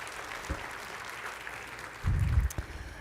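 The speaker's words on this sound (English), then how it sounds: "So please join me in a big round of applause." A conference luncheon audience applauds briefly after a keynote introduction, a short burst of clapping in a large hall following faint room noise.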